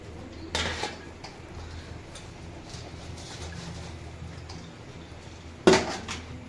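Wheat flour crumb mixture for wheat ladoos is stirred in a pan, giving a steady soft scraping with faint clinks and two sharper metallic clatters, one near the start and a louder one near the end.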